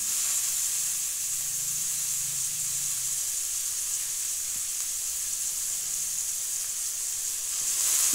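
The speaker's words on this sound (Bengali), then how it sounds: "সবজিগুলো এখন আমি একটু ভেজে নেব।" Cabbage, capsicum and cauliflower sizzle steadily in a hot pan for a vegetable kofta, a continuous loud frying hiss with no voices.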